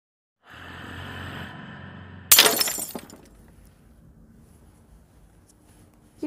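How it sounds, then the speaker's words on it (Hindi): A sudden sharp crash of something breaking, likely glass shattering, bursts out loud over a low indoor hum and rattles briefly before fading into quiet room tone. "ये टूटने की आवाज।"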